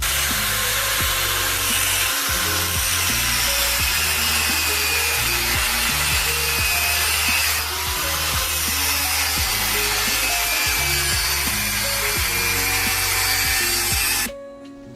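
A power tool cuts open an inverter compressor with a loud, continuous grinding whine. The pitch wavers as the blade works through the metal casing for about fourteen seconds, then stops abruptly.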